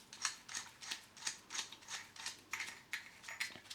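Nylock nuts being nipped up with a ratcheting tool on a homemade mixer tap handle removal tool, about a dozen quick, evenly spaced clicks, close and fairly faint, with no talking.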